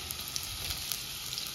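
Chopped onion sizzles and fries in hot oil in a pan for a Goan wet cashew curry, a steady close crackling hiss without talk.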